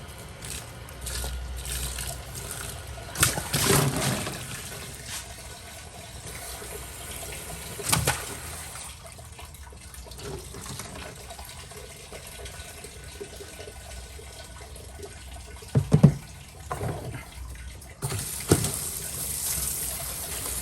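Water gushes and splashes through a hose while tumbled lemon quartz is rinsed of frothy slurry, a steady flow broken by several louder sputtering bursts as air spits through the line.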